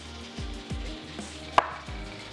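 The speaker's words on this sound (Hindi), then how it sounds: "इसको भी हम कर लेते हैं रफली ही चॉप।" Knife chopping ginger on a cutting board, a few fairly slow, uneven strikes with one sharper, louder cut near the end, heard alone without talk.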